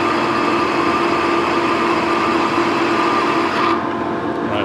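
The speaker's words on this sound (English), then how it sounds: "So I've got a 31 32nds drill bit in here. We're going to go in about 300 thousandths deep" A 31/32-inch drill bit boring into a brass casting for a steam whistle lever bracket gives a loud, steady grinding whir with a machine hum, easing off slightly near the end.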